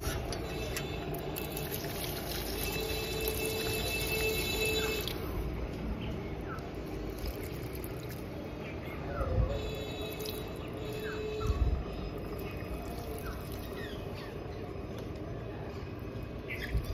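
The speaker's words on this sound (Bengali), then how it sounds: "এবার যেটি করবো সেটা হচ্ছে আমার কিছু গাছ আছে লাগানো, সেগুলোকে জল দেবো" Water poured over potted hill plants and a flowering bougainvillea, a steady liquid splashing and trickling that runs continuously with a few louder drips and spatters, birds and outdoor background faintly present.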